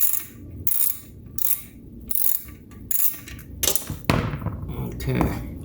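Ratchet wrench loosening the oil drain plug on a 2026 Yamaha Raptor 700R ATV, a series of quick clicking bursts in repeated pulls, fairly close, with a voice talking over parts of it.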